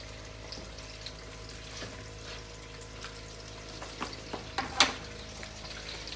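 Meatballs browning in a pot for Jamaican brown stew, giving a steady close sizzle with a few sharper spits and pops toward the end.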